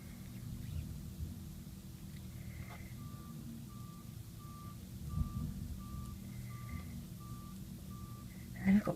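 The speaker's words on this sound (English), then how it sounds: "It's a trash truck day, so the dustbin man is outside picking up my" Garbage truck collecting recycling bins on a street outside, its reversing alarm beeping in a steady, evenly spaced series, fairly faint and distant over a low engine rumble.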